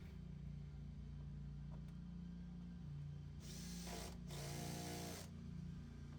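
A power drill drives a screw into a gate spring outdoors, with two short whirring bursts close by under a constant low background hum.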